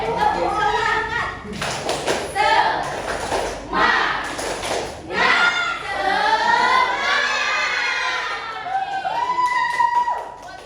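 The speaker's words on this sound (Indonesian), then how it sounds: "Biar tambah semangat, kita tepuk semangat dulu ya, Ibu contohkan." A classroom in Indonesia performs a rhythmic spirit clap, tepuk semangat, with bursts of group clapping in patterned beats mixed with children's chanting voices, loud and close, alongside a teacher's voice.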